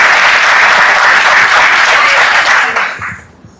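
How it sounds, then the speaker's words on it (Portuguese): Loud, dense audience applause at a talk on a building manager's responsibilities, sustained for a few seconds before tapering off quickly at the end. "Eu ia perguntar se ela merece palmas"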